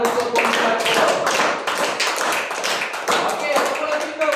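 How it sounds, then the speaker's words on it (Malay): A class group gets applause from the room: a few seconds of dense, lively clapping from many hands, fairly close and continuous throughout. "bagi tepukan untuk kumpulan kita"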